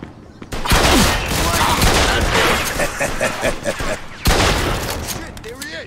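A shootout in the Mafia 2 video game: rapid bursts of gunfire with sharp cracks and a heavy boom near the four-second mark, dense and loud throughout, with voices shouting underneath.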